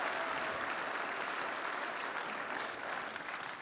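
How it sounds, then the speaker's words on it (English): A church congregation gives a sustained round of applause during an Easter service, dense, even clapping filling the room throughout. "give the Lord a big round of applause."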